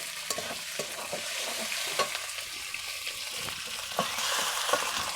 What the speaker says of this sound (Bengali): এবারে দিয়ে দিচ্ছি চিকেনগুলো। ভালো করে নেড়ে চেড়ে কষবো।